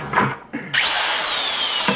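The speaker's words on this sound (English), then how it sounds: "you're going to drill several holes." A power drill bores into a plastic 5-gallon bucket, giving short bursts and then a steady whine through the plastic, loud and close.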